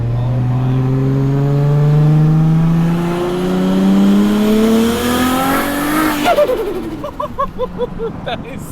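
An RB-swapped, big-turbo Nissan 300ZX accelerates hard from inside the car, its engine note rising steadily through the rev range before a gear change and choppy, fluttering turbo sounds as the revs drop.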